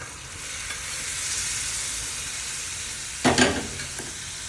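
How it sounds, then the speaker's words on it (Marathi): Mutton sizzles and sautés in oil with spices, a soft continuous frying hiss broken near the end by a brief louder clatter of stirring against the pan. "त्याला सगळ्यांना परतून घेऊया"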